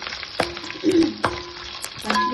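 Green and dried chillies fry in hot oil with chana dal for mango pulihora, a bright sizzle punctuated by three or four sharp clacks of a spoon stirring against the pan.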